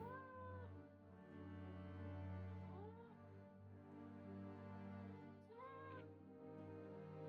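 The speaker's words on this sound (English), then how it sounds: "I have to admit the cat noise is slightly irritating me" A cat meows several times at a distance, drawn-out rising calls spaced a few seconds apart over a low, steady background hum.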